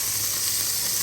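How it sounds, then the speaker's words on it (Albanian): Onion frying in a pan, a dense, steady hiss of sizzling oil that stays close and even throughout the brief moment, with no voices. "Në të njëjtën tigan të qesim qep,"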